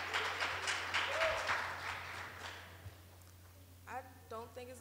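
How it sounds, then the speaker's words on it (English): An audience at a youth violence town hall applauds, with a burst of clapping that fades over a few seconds before a voice speaks. "It's okay to clap."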